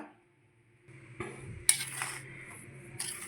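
Sorghum flour mixed with grated jaggery and cardamom powder is stirred in a bowl, with a spoon scraping and clinking against the sides in a few quiet, close strokes.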